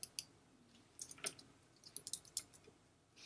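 A series of quiet, crisp computer mouse clicks, scattered singly and in quick pairs over a few seconds, as a drop-down menu option is selected; no voices.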